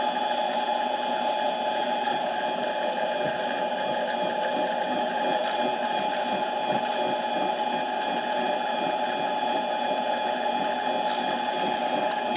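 A Harbor Freight mini lathe turns slowly while working on an 11 hp Briggs & Stratton camshaft, making a steady mechanical whir and hum with faint ticking, close and continuous.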